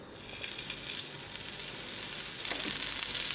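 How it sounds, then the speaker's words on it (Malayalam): Butter, half a tablespoon, sizzles in a hot pan while preparing chicken mandi, a soft, even frying hiss that swells slightly toward the end, heard alone. "ഇതിലേക്ക് ഒരു 1/2 ടേബിൾ സ്പൂൺ ബട്ടർ ചേർത്ത് കൊടുക്കുക"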